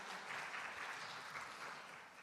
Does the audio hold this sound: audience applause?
yes